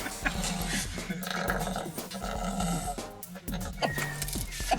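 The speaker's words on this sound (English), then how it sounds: "Yeah, he's actually growling." A white dog growls in a low, sustained rumble, angry and nervous as if cornered, mixed with other dog noises and close, busy background sound throughout.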